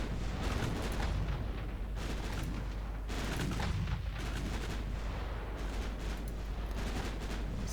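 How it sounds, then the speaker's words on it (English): Cruisers open fire with 45 caliber guns during a naval battle in a warship strategy game, a dense, continuous barrage of loud booming gunfire and blasts rolling over one another without pause. "Cruisers are opening fire."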